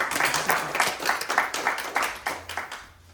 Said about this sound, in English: Let's hear a huge round of applause for all of you guys.